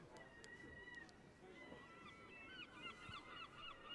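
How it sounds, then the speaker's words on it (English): Herring gulls calling as they circle above a cricket ground during a Somerset vs Essex County Championship match, faint distant squawks repeating over quiet background noise. "Herring gulls still circling above him."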